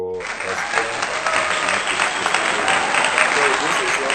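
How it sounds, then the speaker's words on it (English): Audience applause for a maths teacher in a classroom lesson, a dense burst of many hands clapping, loud and continuous for several seconds. "you have to clap for me because it's not easy to explain"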